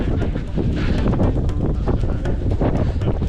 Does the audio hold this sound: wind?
yes